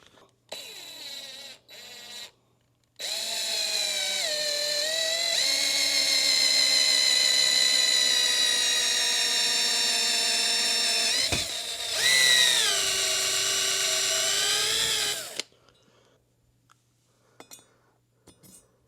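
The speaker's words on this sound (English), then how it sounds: "run this chucking reamer slowly down through these guides using a drill" A power drill whines as it turns a chucking reamer down through guides on a Honda CRF250R, a high steady tone with a brief dip and restart, after short starts, then stops into near silence.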